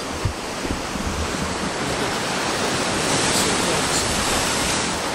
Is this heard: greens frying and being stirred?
no